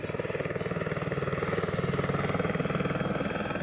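Helicopter climbing to 7,500 feet beside Mount Aspiring's west face, its rotor thumping in a fast steady pulse over a loud continuous engine roar, heard close and alone.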